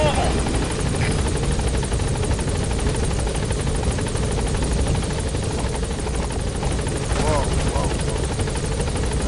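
Pequod, the support helicopter in Metal Gear Solid V: The Phantom Pain, hovers with a steady, loud, close rotor drone that fills the whole stretch, while a voice speaks over it.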